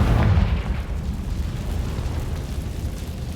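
A Confringo blasting spell goes off in Hogwarts Legacy, a loud close boom right at the start that trails into a long low rumble and fading debris noise.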